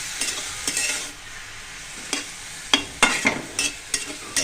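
Coriander leaves, chili, onion and garlic fry together in a pan for a mashed bhorta, a soft steady sizzle broken by irregular scraping stir strokes close by.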